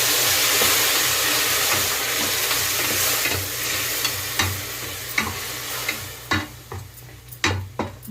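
Tomato puree and mint paste are stirred into a hot pan for mint rice, the mixture sizzling and hissing steadily before the frying quiets and sharp spoon scrapes and clinks against the pan punctuate the stirring.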